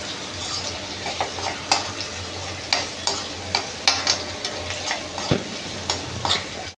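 Onion sautéing in a pan for red amaranth bhaji, a steady close sizzle broken by repeated scraping stirs of a spatula against the pan, with no voices.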